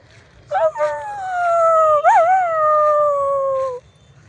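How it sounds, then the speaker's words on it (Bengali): A single long, loud dog howl rises, wavers in the middle, and holds steady for about three seconds before stopping, close by with a faint low hum beneath. "কুকুররা কাঁদছে"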